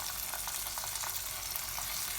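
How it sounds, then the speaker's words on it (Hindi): Tomatoes, garlic, ginger and green chilies fry with onions in hot oil, giving a steady close sizzle with faint stirring scrapes throughout and no talk. "थोड़ा सा भूनते हैं।"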